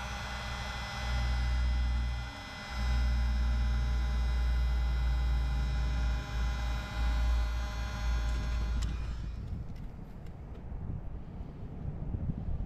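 A heat gun blows a steady, loud hum with roaring airflow while shrinking heat-shrink tubing over a soldered wire splice on a trailer marker light, then cuts out near the end, leaving quieter background noise.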